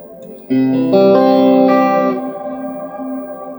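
Sustained guitar chords ring out through a Nucleo reverb pedal with heavy reverb and shimmering effects, swelling, then decaying into a lingering wash.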